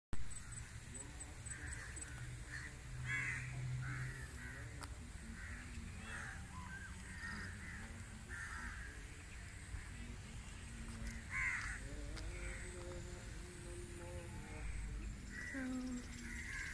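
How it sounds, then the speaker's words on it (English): Crows caw repeatedly from the trees of a tropical forest garden in Malaysia, harsh calls rising at scattered intervals over steady outdoor ambience, some near and some farther off. "there's a crow sleeping on top of that tree"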